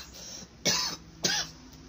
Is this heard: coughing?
yes